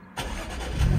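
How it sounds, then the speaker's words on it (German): A 3-litre supercharged V6 in a Porsche GT4 cold-starts with a sudden loud burst after a brief quiet moment, then holds a strong, rising engine roar up close. "Und wie immer gibt es jetzt einen wunderschönen Kaltstart vom 3 Liter V6 Kompressor."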